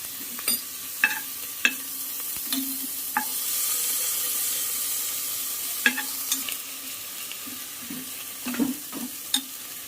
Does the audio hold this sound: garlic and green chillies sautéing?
yes